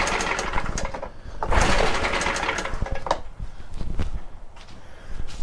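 A Stihl BR800X backpack blower that won't rev up runs nearby with a steady, buzzy engine drone that surges and dips unevenly, with no clear speech over it.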